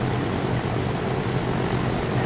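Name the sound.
airliner coming in to land in the video game Transport Fever 2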